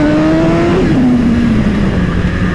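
A BMW S1000RR superbike engine roars loudly and close while accelerating in first gear, its pitch climbing steadily and then dropping as it shifts, a continuous powerful howl.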